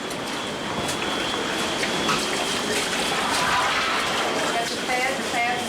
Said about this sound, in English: The water pouring out the room.